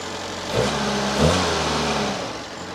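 A car engine runs steadily, revving up twice in quick succession before settling back into an even, close idle, with no talk over it.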